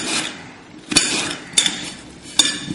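Knife chopping onions on a board while preparing Sicilian-style snails, three distinct sharp knocks spaced under a second apart, close and clear with no talk.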